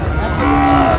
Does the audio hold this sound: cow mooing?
yes